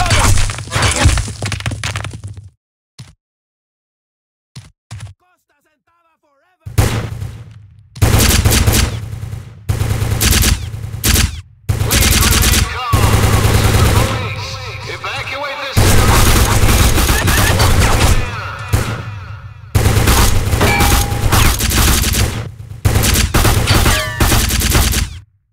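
Heavy gunfire in a first-person shooter video game set on a Secret Service mission. Loud automatic bursts and cracking shots come in long blasts, broken by brief silences, with a shouted voice at the start.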